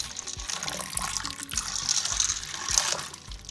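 Water pouring steadily over red kidney beans in a bowl to soak them, a continuous splashing, faucet-like stream lasting throughout, close and moderately loud with no talking.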